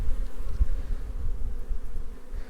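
Honey bees buzz around an open hive while a second box is added, a dense, steady, close-up drone of many insects with no voices over it.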